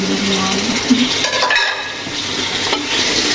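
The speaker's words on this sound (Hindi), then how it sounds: "ये देखें, ये मैं डालने लगी हूँ चिकन" Chicken pieces go into a hot pan for a tinda and chicken masala gravy, sizzling and frying with spoon stirs and scrapes against the metal. Close and fairly loud, with light clinks scattered throughout.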